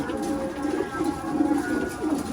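Pigeons in a loft coo softly and repeatedly, close by, with a low murmuring texture while they eat and drink, and faint background noise throughout.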